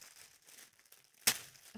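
Crafting paper wrapped around a yarn purchase is opened carefully, with soft faint rustles followed by one sharp crinkling tear near the end, close and quiet with no talking.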